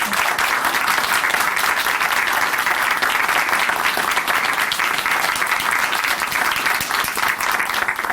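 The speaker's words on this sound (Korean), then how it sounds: "다시 한번 정미정 자매님께 큰 박수 보내드릴게요" A studio audience at a Christian testimony broadcast claps steadily and densely for about eight seconds. The applause holds at an even, full loudness from start to finish.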